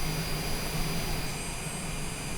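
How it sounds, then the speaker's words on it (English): A jet engine spools up inside a flight simulator, parked at dawn at Haneda airport. It gives off a steady, broad whine and roar with a high tonal hum, droning continuously without talk. "Let's go outside for a second while we wait for that engine to finish spooling up"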